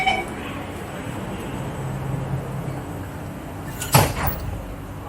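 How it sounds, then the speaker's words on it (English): Singapore MRT train sliding doors closing on board, over a steady carriage hum, with one sharp thud of the doors meeting near the end. "Doors are closing."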